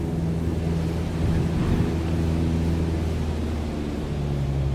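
A steady low drone and rushing wind as an aircraft's engine power is cut in Microsoft Flight Simulator 2020, a continuous even rumble with no distinct engine changes.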